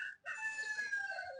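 Rooster crowing on a poultry farm keeping Aseel and Peruvian cross birds, one clear full crow heard close and alone, following a brief cluck at the start.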